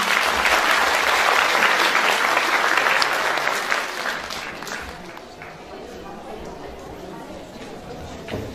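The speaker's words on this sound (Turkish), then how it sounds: "öncelikle koristlerimizi büyük bir alkış eşliğinde sahneye davet ediyorum" A concert audience applauds as a choir is welcomed onto the stage: loud, dense clapping that fills the room, then gradually thins and fades, with some crowd murmur underneath.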